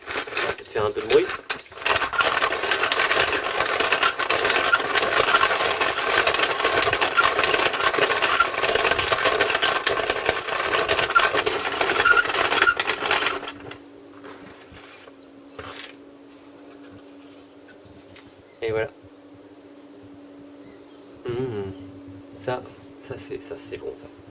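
Coffee grinder grinding freshly home-roasted beans, a loud steady whirring grind that runs for about thirteen seconds and then stops, followed by quieter clinks and handling noises.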